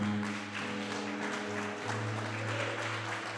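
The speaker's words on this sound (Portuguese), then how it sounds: "dá mais um aplauso ao Senhor." A church congregation applauds during a Portuguese-language worship service, steady crowd clapping sustained throughout with a sustained musical tone underneath.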